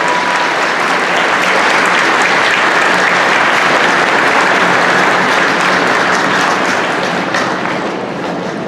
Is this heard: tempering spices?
no